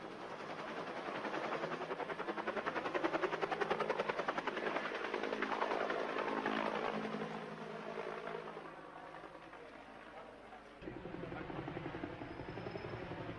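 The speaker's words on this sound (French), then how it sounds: "Des dizaines, des centaines d'hélicoptères se sont succédés jusqu'au matin sur le toit de l'ambassade" Helicopter rotors thump steadily and loudly for the whole stretch during the 1975 evacuation of Saigon, the engine drone easing slightly near the end before returning.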